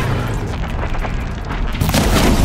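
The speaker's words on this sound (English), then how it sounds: "Kaboom!" A heavy boom from an explosion during a fight with a Thunderjaw in the video game Horizon Zero Dawn, a loud, sustained low rumble that swells toward the end.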